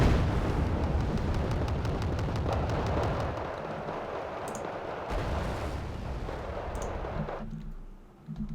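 Rocket artillery fires in the real-time strategy game Wargame: Red Dragon, with a loud continuous rumble of launches and blasts that slowly eases, then cuts to a quieter stretch with faint clicks near the end.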